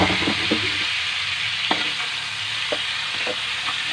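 Galunggong fish frying in a pan with a steady sizzle and occasional clacks of a utensil stirring it, close and fairly loud.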